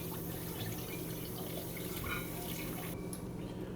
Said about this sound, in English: Now we're filling the batch machine up with water after we already put our cherry flavor in.